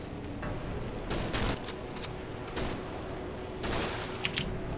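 Several gunshots fired at monsters in the horror game Cry of Fear, a few separate sharp blasts spread across a few seconds over a steady low rumble of game ambience.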